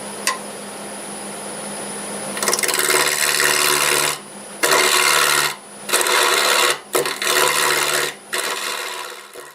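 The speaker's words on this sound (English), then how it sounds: "I will be using my 1/2" bowl gouge for that. At about 1100 RPM." A half-inch bowl gouge cuts into wood spinning on a lathe at about 1100 RPM, a loud close rasping roar that starts after a quiet motor hum and breaks off briefly several times between passes.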